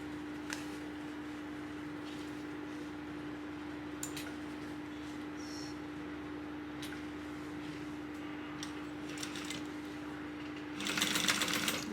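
A sewing machine bastes the top raw edges of a tote bag at a narrow seam allowance, a steady whirring hum running throughout with a few faint clicks and a louder burst of stitching near the end.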